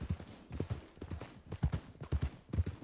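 A horse's hooves clip-clop at a steady walking rhythm in a video game, close and fairly quiet, with no other sound over them.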